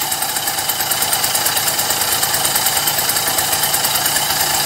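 A Motobecane AV 33 moped engine runs steadily at idle, a loud, close, buzzing two-stroke putter with a fast even rhythm throughout, with no talking.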